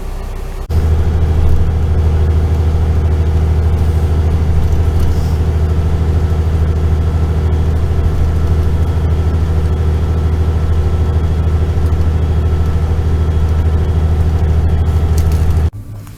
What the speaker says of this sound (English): I'm just gonna get this free bus that takes me to the train station